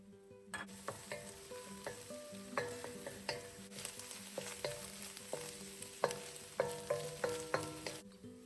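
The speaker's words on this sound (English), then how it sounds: "Add your whisked eggs and let them start to cook, and you want to cut them into small pieces as you go." Whisked eggs cooking in butter in a pan for fried rice with Chinese sausage, a soft sizzle under repeated sharp taps and scrapes of a spatula cutting the eggs into pieces, with no talk.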